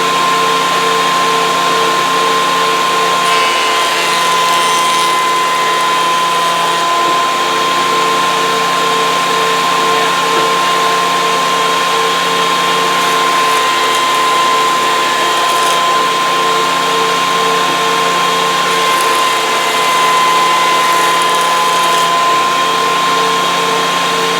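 A Wen 6-inch spiral cut jointer cutting wood gives a loud, steady motor whine with a constant tone that holds evenly for the whole stretch. No one speaks.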